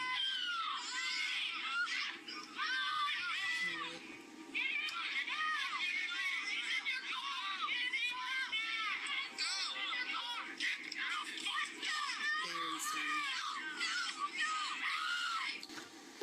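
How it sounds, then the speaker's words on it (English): A crowd of roughly twenty people screaming and shrieking together, a dense wall of high, overlapping cries with some sobbing-like wails, continuous and loud throughout. "There's like 20 people there that could have stopped this fucking guy. Instead, they all just started screaming."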